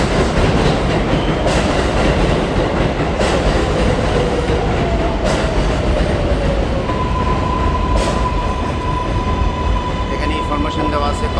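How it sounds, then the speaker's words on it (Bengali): A New York metro train pulls into the station with a loud rumbling roar, a rising wheel squeal and a long steady tone as it slows, with a voice talking over the noise. "এই যে অলরেডি ট্রেন চলে এসেছে।"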